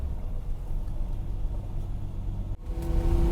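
A Ferrari 365 GT2 Plus 2 driving at low speed with a steady, close engine rumble throughout, a brief dip partway, then the note rising again as it pulls away.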